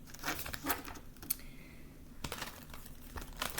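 Tarot cards are shuffled close by in quick crisp riffles and soft papery flutters, with a brief pause mid-way before another burst of shuffling.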